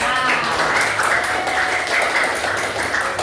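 A classroom crowd claps in a steady, dense burst of applause, with some voices mixed in throughout.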